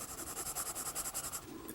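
An HB graphite pencil scratches across paper in quick rhythmic back-and-forth strokes, building texture; close, dry and steady with no talking.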